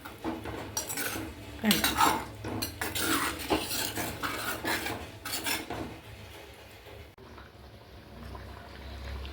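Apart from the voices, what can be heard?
mixing vegetables in a pot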